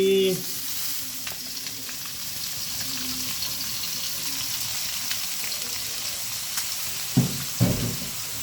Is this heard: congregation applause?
no